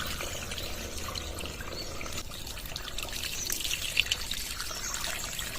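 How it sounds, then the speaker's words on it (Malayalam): Water is poured into a bathroom drainage pipe fitted with a flap that opens under flow, giving a steady close trickle and rush of water that swells slightly toward the end. "ഇനി കുറച്ച് വെള്ളം ഒഴിച്ച് ടെസ്റ്റ് ചെയ്ത് നോക്കാം"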